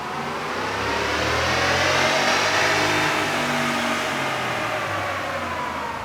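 A stock 2014 Ram 1500 with the 5.7-liter Hemi V8 revs hard on a dyno, its engine roar building and holding loud and steady for about six seconds before easing slightly, with no talking.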